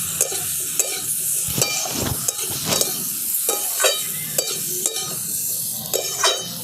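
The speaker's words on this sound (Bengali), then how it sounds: "আলু আর ওলটাকেও আমি এরকম হালকা করে একটু ভেজে নিয়েছি" Potatoes and elephant foot yam frying in a wok, with a steady close sizzle broken by repeated scraping strokes of a spatula stirring the pieces at an uneven rhythm.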